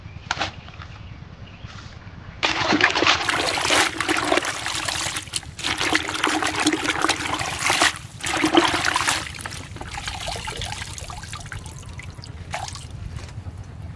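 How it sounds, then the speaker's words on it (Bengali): Leafy radish greens being washed whole in water before chopping, in a home kitchen: steady close trickling and dripping with splashy bursts, loudest in the middle stretch, then settling to a softer dribble. "শাকগুলো ভালো করে বেছে নিয়েছি, এবার কুচানোর আগে ধুয়ে নেব।"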